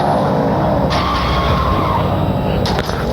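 Tires skid under hard braking in Extreme Car Driving Simulator, a loud, steady broadband screech over engine drone for about three seconds, with a brief flicker near the end.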